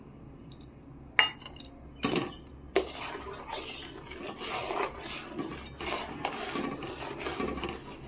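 A spatula scrapes and rubs through thickened milk in a pot, mixing in the collected milk skin cream for rabri, with a few sharp knocks against the metal early on followed by steady close scraping strokes.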